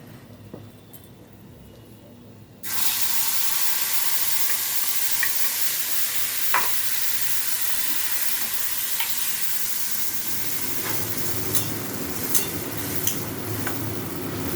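Spice paste hits hot oil already tempered with dried chilli, cumin and whole garam masala for a paneer dish, bursting into a loud sudden sizzle that stays steady and close, with occasional stirring clinks.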